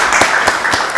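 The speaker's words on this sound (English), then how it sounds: "Let's give Commissioner Washington a round of applause" Brief applause for a commissioner at a county board of commissioners meeting, a few loud, distinct claps from a small group in a room.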